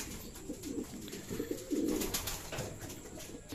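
Racing pigeons cooing softly in a loft in low, rolling bursts, several birds close together with faint background chirps.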